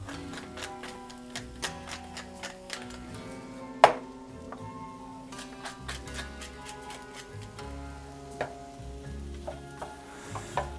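Onions, peppers and ham fry gently in a pan for an omelette, giving a soft continuous sizzle with scattered ticks and the occasional scrape or knock of a utensil, close by and without talk.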